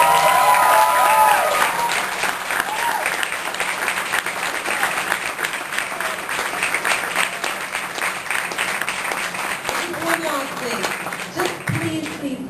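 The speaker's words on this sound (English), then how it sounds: "Give yourself a big round of applause for being such a wonderful audience." A crowd applauds loudly and steadily, dense clapping that carries on throughout, with a voice speaking briefly at the start.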